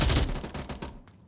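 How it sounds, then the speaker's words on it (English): Rapid bursts of automatic gunfire crackle loud and close during a match in the VR shooter Onward, a dense rattling volley that fades out after about a second. "gunfire already coming in from Bobby"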